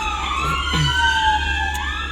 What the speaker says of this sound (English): now the ambulance passes by